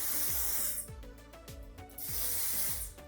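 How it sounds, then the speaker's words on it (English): Quick bursts of hissing hairspray on curled hair, one long spray then short pulses, with a rhythmic rubbing sound underneath, fairly quiet and close. "Now I'm gonna go and spray this top layer."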